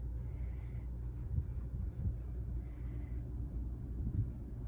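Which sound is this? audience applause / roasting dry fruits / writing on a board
writing on a board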